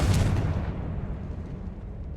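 The Confringo fire spell in Hogwarts Legacy bursts as a single loud, close blast that booms at the start and fades into a rumbling decay over two seconds, with no voices.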